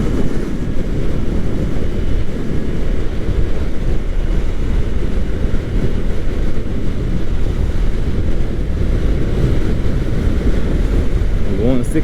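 Kawasaki Ninja 400 motorcycle cruising at about 62 mph on a highway, heavy wind buffeting the microphone in a constant loud rush with a low engine drone underneath, steady throughout.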